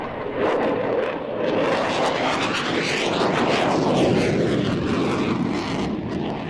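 Propeller aircraft engines drone steadily overhead, a loud continuous roar that swells and peaks mid-pass before easing slightly, with some wind buffeting and no talking.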